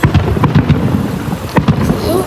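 July 4th fireworks bursting outdoors, a dense rumbling string of booms and crackles at loud volume, with several sharper bangs spread through.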